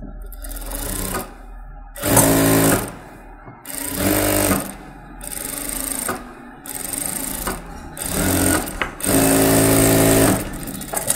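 A sewing machine stitches the lining of a fancy saree blouse in a series of loud, close whirring runs of one to two seconds each, separated by short quiet pauses.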